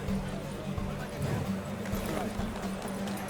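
Saddled horses galloping in a race in The Witcher 3, a steady clatter of hooves under music and game sound, with voices talking over it.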